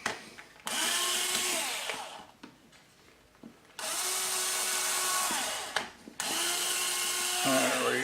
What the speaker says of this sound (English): And we're going to drill the pilot hole.